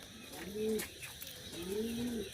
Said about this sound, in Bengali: এটা মূলত গিরিবাজ কবুতরের একটা জাত